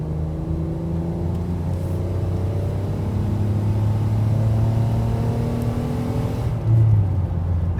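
A Ford Edge engine idles and revs steadily, a low, continuous rumbling drone with rising and falling harmonics, close and fairly loud throughout.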